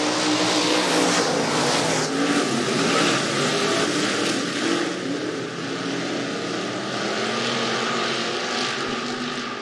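Stock cars race around an oval dirt speedway during a heat race, a continuous loud roar of multiple engines droning and swelling steadily with no voices over it.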